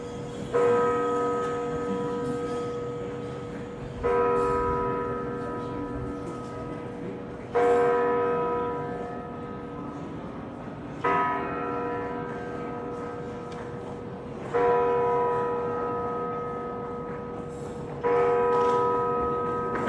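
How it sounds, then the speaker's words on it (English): Church bells in Strasbourg, France, ring out in a slow, repeating pattern, each strike resonating with a long humming tail, heard from a distance over faint outdoor Christmas market ambience. "Church bells to me just sound beautiful, especially during Christmas"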